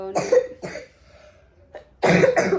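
A young girl coughs harshly in several quick bursts, a pause, then another pair of loud, close coughs, with no talking.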